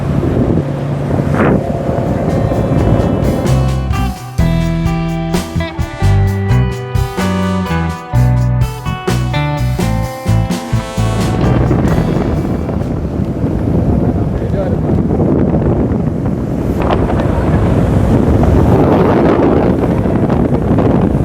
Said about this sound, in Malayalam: ഞങ്ങളെയും കൊണ്ട് സ്പീഡ് ബോട്ട് ഇങ്ങനെ യാത്ര തുടങ്ങിയിരിക്കുകയാണ്